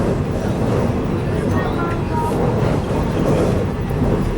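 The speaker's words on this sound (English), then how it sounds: "客车快233通过郑州黄河大桥。" Passenger train K233 rolls across the Yellow River Bridge, heard from inside as a loud, continuous low rumble and roar with faint rhythmic rattling throughout.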